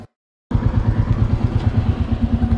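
A motorcycle engine runs steadily with a throbbing, pulsing rumble, loud and close, on a monsoon ride, after a brief moment of silence at the start.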